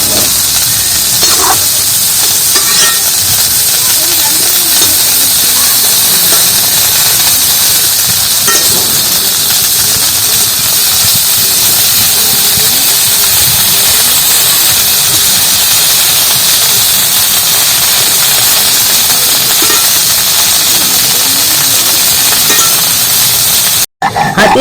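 Cauliflower fries in a pan for a vegetarian dish, a loud continuous sizzle and hiss that stays steady throughout, close up, with faint scattered pops and no talking.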